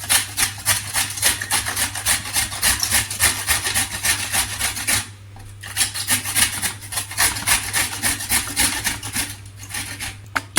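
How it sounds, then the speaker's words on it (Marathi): Bitter gourd rubbed against a hand grater for a relish, a fast rhythmic rasping scrape of steady strokes, briefly pausing midway before resuming, close and fairly loud over a low hum. "छान असं किसून घ्यायचं ओलसर नको आहे आणि हे किसायला पण लवकर किसून होतं"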